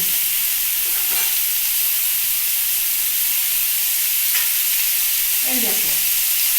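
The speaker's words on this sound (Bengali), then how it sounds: "এর মধ্যে আমি একটু দুধ দিয়ে দিচ্ছি" Milk drizzled into a hot pan of pointed gourd (dudh potol) cooking in a Bengali kitchen gives a steady, fairly loud sizzling hiss that runs throughout, with a few faint clinks near the end.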